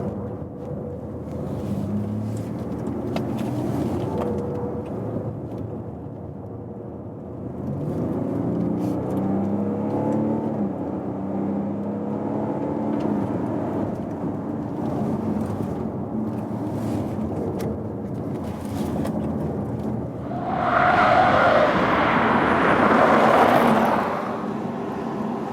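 A 2019 BMW X4 M40d diesel SUV drives through a series of corners, a steady engine drone with shifting revs and a louder surge of acceleration near the end, heard without talk.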